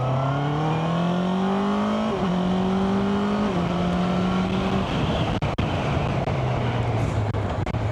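Honda CB650R E-Clutch motorcycle climbing a hill, steady inline-four engine note rising through the revs with a gear change partway, loud and close with wind rush throughout.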